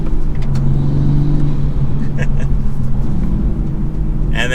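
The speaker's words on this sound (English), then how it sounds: "I love hearing the turbo noises between shifts." A manual Toyota Supra with an MST turbo intake drives under steady engine rumble. Its note rises and falls between shifts, and a brief whoosh of turbo air comes near the end. Faint speech may sit underneath.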